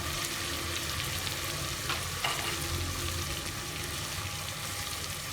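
Aloo gosht masala being mixed in a frying pan gives a steady, moderately loud sizzle with soft scraping stir sounds running through it, continuous with no talking.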